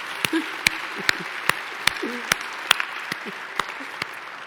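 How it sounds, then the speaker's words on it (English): Steady applause from an audience at a New York City State of the City address fills the space, with a few sharper individual claps popping out above the continuous patter. "Yes, you can applaud for that."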